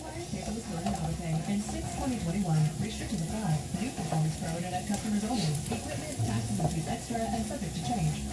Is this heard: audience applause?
no